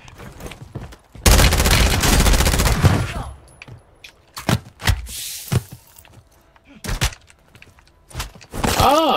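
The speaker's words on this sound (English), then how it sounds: "This guy's still sniping." Gunfight in Warzone: a sustained burst of rapid fire, then several loud isolated sniper-rifle cracks spaced a second or two apart, with voices talking between shots.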